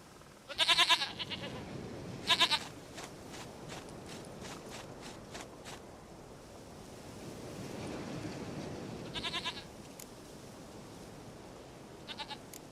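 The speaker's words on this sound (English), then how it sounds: "Goat of mine, dearest, sweetest goat." Goat in The Witcher 3 giving several short, sharp bleats spread through the clip over a steady bed of soft footsteps and ambient wash, fairly faint, with no talking.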